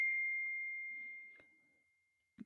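A laptop notification gives a single clear, high ding at the start that rings on and slowly fades out in an otherwise quiet room, followed by a faint soft thump.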